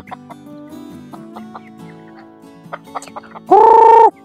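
Chickens on a poultry farm cluck in scattered short calls, then one bird lets out a loud, drawn-out squawk near the end.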